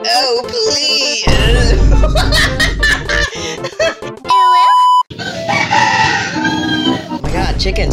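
A loud rooster crow blends with clucking and chicken-like squawks, probably voiced by people imitating the bird, amid laughter, quick cuts and a brief electronic tone in a comedy dub.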